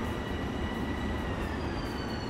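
Steady rumble of a simulated locomotive riding the busy New York rail line in Train Sim World, with continuous wheel and track noise and faint high tones, heard from inside the cab.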